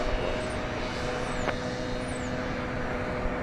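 At DFW Airport, a jet's engines roar steadily on takeoff, a loud, even broadband rush with a faint hum underneath and a few thin chirps above, no voices.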